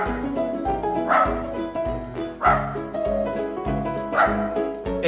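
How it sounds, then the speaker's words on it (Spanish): A dog barks indoors during home pranks, sharp yipping barks repeating every second or so, close and loud, with some whimpering tones between them. "No le ladres, que se pone triste."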